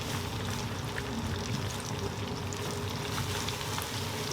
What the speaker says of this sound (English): We're just vibing with all this food deep frying.